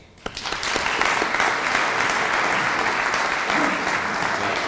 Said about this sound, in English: Please, let's give them an applause.